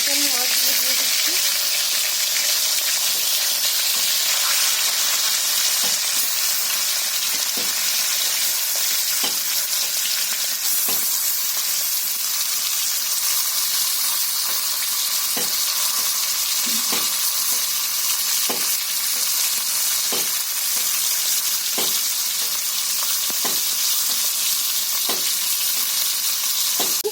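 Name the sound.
katla fish pieces frying in oil in a wok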